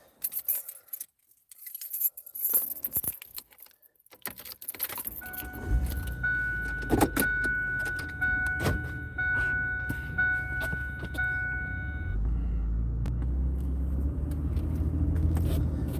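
Someone gets into a car: keys jangle and a door handle and interior clicks sound close by, followed by a chime pattern and then the low rumble of the car running.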